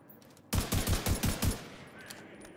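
Rifle gunfire in the game Division 2, a quick burst of about six evenly spaced shots, crisp and fairly close, then a faint ambient tail with no talking.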